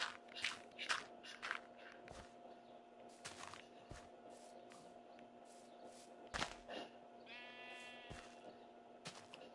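Sheep in the video game Wolf&Fox&Cat bleat in a short wavering call over soft footstep-like crunches and steady background tones, moderately quiet.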